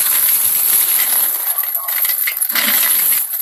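A heap of 20-peso coins shifts and jingles, a dense metallic clatter that runs steadily and loud, close by, with no talk.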